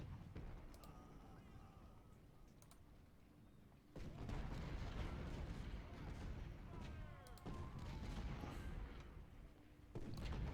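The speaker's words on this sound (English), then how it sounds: "I'll have 3 or 4 batteries firing on him." Several Civil War artillery batteries fire in a strategy game battle near Richmond, sending faint, rumbling cannon booms that swell and overlap at a distance, with a low game soundscape running throughout.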